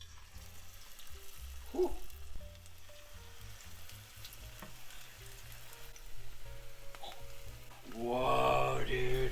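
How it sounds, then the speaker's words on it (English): Spoonfuls of onion nugget mixture drop into hot oil and fry with a soft, steady sizzle that swells louder near the end, while a voice briefly exclaims. "about a tablespoon of our onion nugget mixture into the hot oil"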